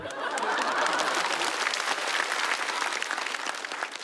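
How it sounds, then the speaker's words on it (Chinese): A stand-up comedy audience at a Shanghai show bursts into steady, loud applause that fills the whole moment, with faint chuckles mixed into the clapping. "你们要是听不懂，可以给我鼓下掌"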